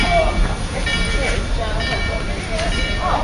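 Durango and Silverton steam locomotive 482 pulls away at a railfest, a steady broadband rumble and hiss carrying from a short distance while people talk nearby.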